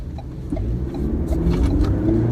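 A 222 kW Ford Ranger Wildtrak power slides, its engine rumbling loud and close in a steady, building drone with scattered tire and gravel noise over about two seconds.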